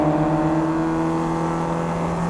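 An MGB sports car on a race track, its engine holding a steady, loud, even drone at constant revs with no change in pitch.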